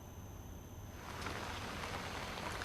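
Light pre-monsoon rain falling in Dehradun, Uttarakhand, a steady hiss of drops that swells into a denser patter after about a second, heard alone at moderate level.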